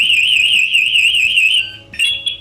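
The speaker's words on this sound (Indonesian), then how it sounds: "pas ini akan berbunyi, artinya ada masalah terhadap firefighter yang masuk ke dalam bangunan" A firefighter's SCBA PASS alarm device shrieks loud and close in a steady, warbling high tone that breaks into short chirps near the end, with no voices.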